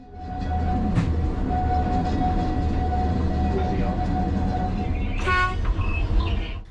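A small train on the Alishan Forest Railway rumbles along near at hand, giving one short toot early and a louder, longer horn blast near the end, with voices faintly under the noise.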